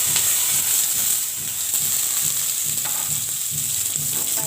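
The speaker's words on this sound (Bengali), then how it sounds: "দিয়ে আমি পেঁয়াজটা দিয়ে দিচ্ছি" Onions dropped into hot oil with a chili, bay leaf and five-spice seasoning, a loud, steady, close sizzle that hisses continuously without talk.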